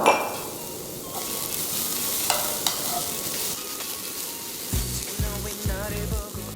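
Grated carrots, squeezed of water, sizzle steadily in a frying pan while Korean street food is prepared for kimbap, with occasional utensil clinks and stirring scrapes, plus a rhythmic tapping toward the end.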